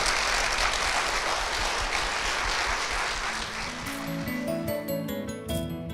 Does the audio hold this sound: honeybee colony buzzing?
no